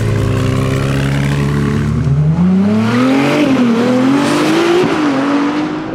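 An 830-hp Ferrari 296 GTB drives hard on a race circuit. Its engine roars loud and close, with the pitch climbing steadily as it accelerates and wavering through a few brief shifts in revs.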